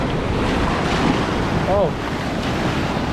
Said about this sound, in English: Got a couple of waves coming, hold up.